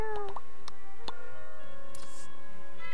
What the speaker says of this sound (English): Yes. Happy cat.